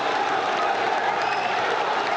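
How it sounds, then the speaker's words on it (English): Steady roar of a stadium crowd cheering and applauding in the EA FC football video game, a broad continuous wash of noise with no breaks, under soft commentary. "look at some of the people in the crowd going absolutely crazy"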